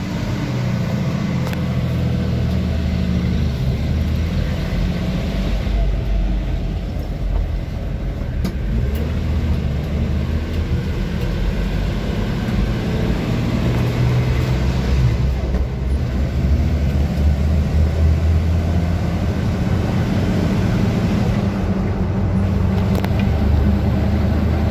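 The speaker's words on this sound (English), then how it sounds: "This thing runs and drives really awesome. I'll take it down the road" A 1982 Jeep CJ7 drives along the road, its engine a steady low rumble with road and wind noise running continuously at close range and no clear gear changes.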